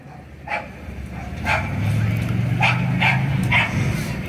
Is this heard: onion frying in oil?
no